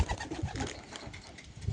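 Soft, low cooing from several pigeons in a pigeon loft, overlapping and murmuring close by, with faint rustling in the background.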